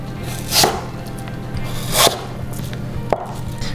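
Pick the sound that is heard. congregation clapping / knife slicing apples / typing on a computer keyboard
knife slicing apples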